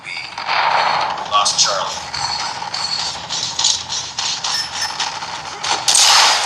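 Rapid gunfire in Call of Duty Mobile, played on an Infinix GT 20 Pro, as a chopper is shot down: a steady run of close, loud bursts with sharp cracks throughout, with faint talk mixed in.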